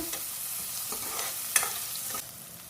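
Sliced onion with curry leaves, mustard seeds and a pinch of asafoetida sautéing in a pan, giving a soft continuous sizzle punctuated by several sharp spatula scrapes and stirs, close and unaccompanied by speech.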